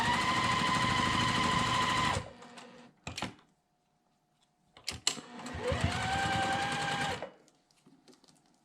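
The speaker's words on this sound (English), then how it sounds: "Some of these have a lot of seams that we're sewing through." A sewing machine stitches through the many seams of a quilt block in two loud, steady bursts, the first about two seconds and the second about two seconds, separated by a short pause with brief clicks of handling.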